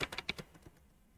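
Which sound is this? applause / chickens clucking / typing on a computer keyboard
typing on a computer keyboard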